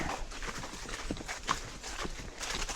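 Horses walk along a trail, their hooves clip-clopping in a steady, soft rhythm, moderately close under a constant outdoor background hiss.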